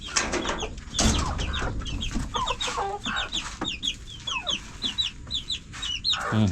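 A brooding hen in a cage clucks repeatedly in short, close bursts, with other chickens' chirps and clucks scattered around and faint rustling, and no speech.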